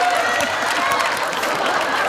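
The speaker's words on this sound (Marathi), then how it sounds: "जोरदार टाळ्या वाजवा" Studio audience on a Marathi comedy show breaking into loud, sustained applause, a dense continuous clatter of clapping mixed with some crowd cheering, filling the whole moment.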